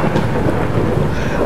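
Steady rain with low thunder rumbling in a virtual rainstorm in an Oculus Rift VR game, a dense, continuous wash of noise holding at an even level for the whole moment with no talk over it.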